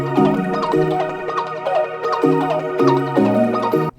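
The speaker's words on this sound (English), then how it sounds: "It's an influx pad from Tyrell." An Influx synth pad from Tyrell repeats a chord in steady eighth notes, its held tones shifting between chord changes, up front and unaccompanied until a brief cut at the end.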